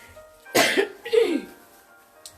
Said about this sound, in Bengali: কাশি আরো দ্বিগুণ হলো।